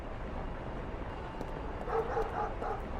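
A dog in the video game An English Haunting gives a few soft, faint barks and yips toward the end over a low background murmur.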